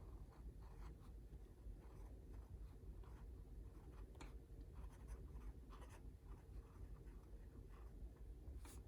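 A fountain pen with a journaler nib scratches across paper in short, faint strokes with soft taps between them, close and quiet, and nobody talks.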